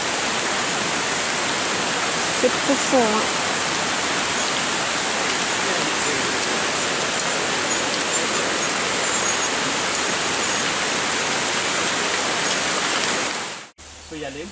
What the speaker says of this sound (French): Et voilà qu'il pleut maintenant à fond.